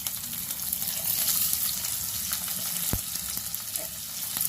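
Cumin, chopped onions and green chilies frying in oil give a continuous close hiss and crackle, with one brief knock partway through.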